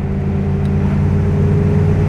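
A 1966 Iso Grifo 300 GL, restored, idles with a steady, deep engine rumble, loud and close, holding an even drone throughout with no voices over it.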